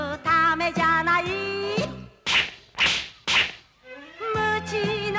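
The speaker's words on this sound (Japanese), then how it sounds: "ムチは音をさせるため、ムチは殴るためじゃない。" A whip cracks three times in quick succession, each sharp and loud, set between stretches of a melodic animated-film soundtrack.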